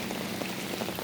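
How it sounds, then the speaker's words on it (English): Steady rain falls outside in a garden, a dense, even patter of drops across the whole moment with no pauses. "you can kind of hear the rain starting to pan off a little bit right now"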